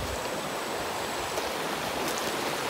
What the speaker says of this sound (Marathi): इकडे पाणी मस्त भरपूर असं पाणी भरलं आहे